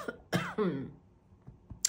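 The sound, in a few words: cough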